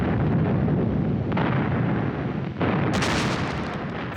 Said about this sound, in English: Stalin ordered 12 124-gun salvos and a barrage of fireworks in Moscow's Red Square